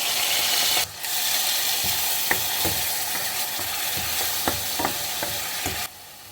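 Ground masala paste sizzles and crackles steadily in hot coconut oil, with occasional stirring scrapes and clicks; close and loud, no talking.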